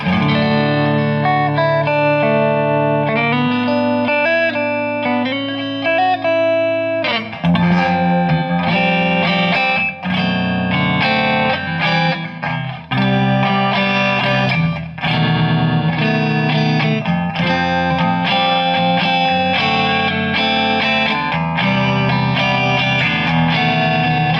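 An electric guitar plays sustained chords and notes through an Electro-Harmonix Oceans 3-Verb reverb pedal set around ten o'clock, with a steady wash of lush reverb trailing each strum for the whole stretch and no talking.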